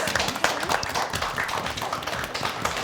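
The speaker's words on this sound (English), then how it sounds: "Give them a big round of applause for Team Fusion." Audience at a quiz show gives a team a big round of applause, dense steady clapping filling the room throughout without any talk over it.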